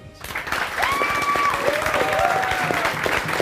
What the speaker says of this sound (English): A round of applause for our citizens.